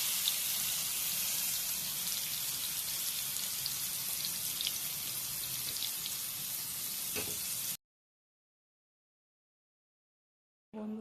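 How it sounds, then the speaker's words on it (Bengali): Cheese frying in hot oil over medium-low heat gives a steady, close, bright sizzle that runs for several seconds, cuts to silence, then briefly returns. "এরপরে চিজগুলো বসিয়ে দেবো মিডিয়াম টু লো হিটে। সেটা আমি একটু করে ফ্রাই করে নিই।"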